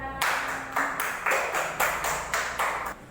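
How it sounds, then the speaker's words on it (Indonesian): A class in a microteaching lesson claps hands together in a steady rhythm, about six loud, evenly spaced beats in unison. "Tepuk tangan"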